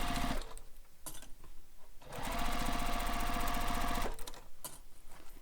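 A sewing machine bastes a seam on a mesh beach bag with binding, running steadily in bursts of rapid mechanical stitching with brief pauses between, close and moderately loud with no talking.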